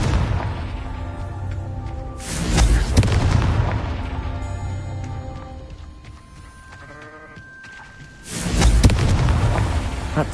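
Two heavy, booming Confringo spell blasts from Hogwarts Legacy, a Harry Potter video game, erupt loud and close several seconds apart, each a broad roaring burst over a busy game soundscape.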